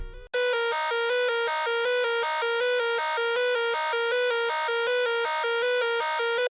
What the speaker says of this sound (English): the main lead that you hear throughout the song